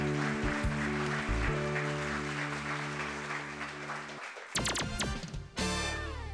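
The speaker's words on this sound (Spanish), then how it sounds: "Daniel, un aplauso para él." Studio audience applause on a Spanish youth quiz show, a dense wash of clapping under steady tonal music. It stops sharply near the end before brief louder bursts of clapping return.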